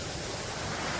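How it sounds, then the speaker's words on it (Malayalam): Water rushing over rocks at a forest waterfall makes a dense, continuous hiss and roar, close and steady across a brief moment with no voices. "ഇവിടെയാണ് വെള്ളം ഇങ്ങനെ ഒഴുകുന്നു."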